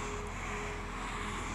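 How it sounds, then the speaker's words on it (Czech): A DJI Mavic Pro drone straining at about 279 metres in extreme wind, heard as a steady, loud, continuous motor-and-propeller whine mixed with wind roar and no breaks throughout. "Teďka dron vůbec nechce letět v téhle výšce."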